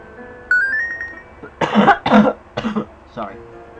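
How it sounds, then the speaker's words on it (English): A man coughs in a quick cluster of three or four harsh bursts, close to the microphone, after a brief electronic tone from a retro-style RPG game. "I have that cough sometimes."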